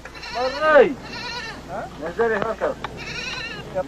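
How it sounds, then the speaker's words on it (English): A goat brought out for slaughter by soldiers in the Western Desert bleats several times in wavering, nasal cries, close and fairly loud, with pauses between calls. "When the goat we had been carrying with us was brought out for the kill, it marked the beginning of a special occasion."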